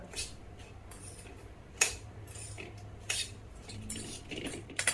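Dry-fruit panjiri made with powdered sugar is stirred in a bowl, producing a series of light spoon clinks and taps against the bowl, irregular and close, with soft scraping in between and no clear talking.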